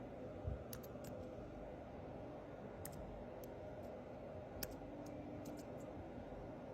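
Soft, quick clicks of keys being typed on a computer keyboard, scattered and fairly faint against a steady low room hum.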